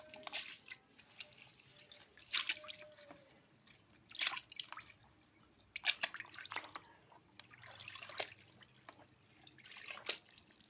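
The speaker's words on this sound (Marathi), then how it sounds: "आता आपण एकदा अजून परत धुवून घेऊ टबामध्ये पाणी घेतलं आणि टोपलीमध्ये डाळ टाकणार आहे" Soft intermittent splashes and trickles of water at close range as split mung lentils are washed in a basket dipped in a tub, recurring every second or two, quiet and without voices.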